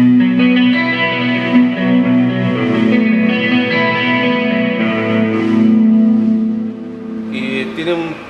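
Clean-channel instrument tone through a personal monitor, carrying a small reverb and a short delay; sustained harmonic notes ring steadily and fairly loud, with a brief change near the end.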